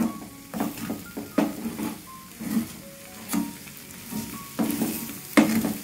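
Chicken podimas fries in a pan while being stirred, with repeated scraping strokes and clinks over a soft, persistent sizzle, with no voices.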